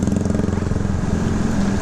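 A Honda CB150 motorcycle engine runs steadily while riding on a mountain road, a loud, continuous low drone with a rough, buzzing hum and no speech.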